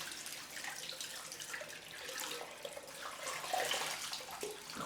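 Cold water running from a bathroom tap during a head shave routine, a steady close splashing stream that swells slightly toward the end, with no one talking.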